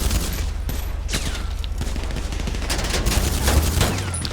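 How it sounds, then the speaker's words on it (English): Gunfire from an armored vehicle in GTA 5 Online: dense, rapid bursts of shots crack close and loud over a constant low engine rumble, with no voices. "I can shoot up both sides, a much better arc"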